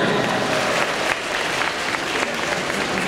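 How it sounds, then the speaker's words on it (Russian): Crowd applause at a cosplay show during the AvaExpo convention, continuous clapping from many hands in a hall, moderately loud and even throughout. "Аплодисменты!"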